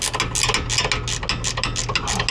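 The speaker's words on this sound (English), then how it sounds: "so let's go ahead and use the ratcheting wrench." A ratcheting wrench loosens a suspension bolt on a Dodge Ram 1500 front end, giving a fast, steady run of close, loud metallic clicks throughout without talk.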